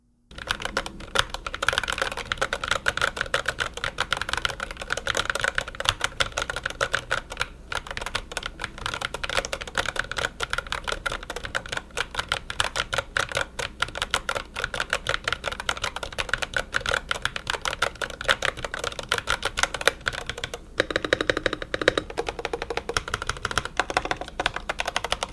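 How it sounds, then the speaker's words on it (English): A Redragon Alcor K717 Pro compact keyboard being typed on steadily for about twenty-five seconds, a dense, even clatter of close keystrokes with no talking. "let's go ahead and do a typing test on this keyboard."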